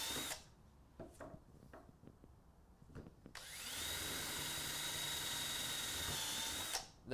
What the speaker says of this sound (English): I'm going to proceed to drill a pilot hole through each one